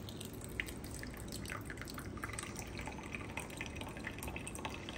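A toy coffee machine dispenses coffee in a soft, steady trickle with faint drips, quiet and close, running alone for several seconds.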